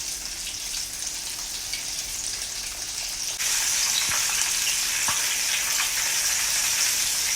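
KFC-style chicken pieces deep frying in hot oil in a home kitchen, a steady broadband sizzle that grows noticeably louder partway through, with a few crackles and pops, close and continuous with no talk.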